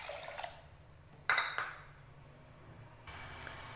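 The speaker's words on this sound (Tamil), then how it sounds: "நீங்கள் எந்த கப்பில் பருப்பு எடுத்தீங்களோ அதே கப்பில் தண்ணி சேர்த்துக்கோங்க." Water poured into a pot of lentils while making paruppu kadaiyal, a quiet splash and trickle with a brief louder pour near the middle and soft drips after.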